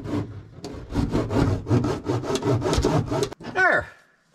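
Sound deadening mat pressed and rubbed by hand onto a car's metal panel, a steady rhythmic scraping and rubbing, close and loud, ending with a short squeak.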